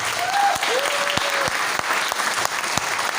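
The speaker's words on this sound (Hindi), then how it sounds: "तो अपने लिए एक जोरदार ताली।" Hearty applause from an audience seated in a meeting hall in Nepalgunj, dense clapping throughout with a few sharper individual claps standing out and faint tonal sounds drifting over it early on.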